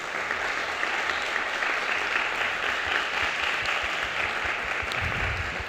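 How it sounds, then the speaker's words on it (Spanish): Sustained audience applause at a Madrid series festival panel, a dense steady patter of many hands clapping throughout, fairly loud and continuous with no talk over it. "Un aplauso pues para Bruno, para Pedro y para Patricia."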